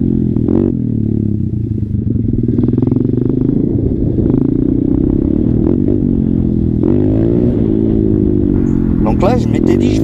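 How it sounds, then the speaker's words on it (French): A motorcycle on a road during a wheelie session revs loudly and continuously, its engine pitch rising and falling under steady rumble and clatter, while someone talks over it. "je vais pouvoir me faire une petite session wheeling"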